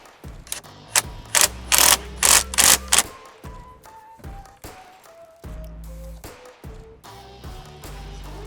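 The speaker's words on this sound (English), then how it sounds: "Then you can tighten that all the way down." Ratchet tightening the steering wheel nut on a 4th Gen 4Runner, a run of loud close clicking bursts followed by quieter repeated ratchet clicks and brief pauses.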